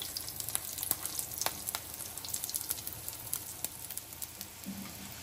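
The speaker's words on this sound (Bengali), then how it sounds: "সেই অবস্থায় ডিম ফ্রাই করতে হবে। ভেতরেও ফ্রাই হতে হবে।" Fish roe fritters frying in hot oil over a medium flame, a steady close sizzle with dense crackling pops throughout and no talk.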